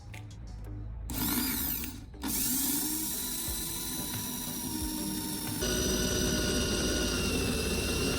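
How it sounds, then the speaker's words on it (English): A power drill whirs, briefly stops, then spins up again and keeps grinding steadily, close by, with some metallic clatter early on. "then drilling a hole through it"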